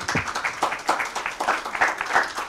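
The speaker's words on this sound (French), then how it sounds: "On les applaudit, s'il vous plaît" An audience at a medical congress session claps for honorees, producing a steady, moderately loud patter of many hands throughout with no voices.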